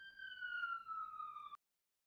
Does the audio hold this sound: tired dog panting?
no